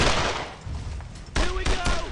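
Gunfire in the World War II shooter Brothers in Arms on the road to Hill 30, a dense burst of rifle and machine-gun shots, with a few sharp louder cracks in the second half and faint shouting mixed in.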